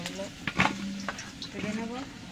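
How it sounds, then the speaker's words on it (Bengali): Potato pieces stirred and frying in a pan while making mutton curry, a steady close sizzle with a few scraping stir strokes and short clatters, and a voice faintly present. "আলুগুলো নাড়াচাড়া করে ভালো করে ভেজে নেব।"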